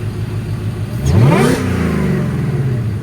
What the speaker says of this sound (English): Sean, get a rev in there